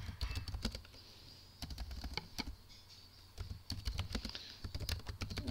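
Fingers tapping a computer keyboard in quick bursts of close, light clicks, pausing briefly between runs of keystrokes, in a quiet room.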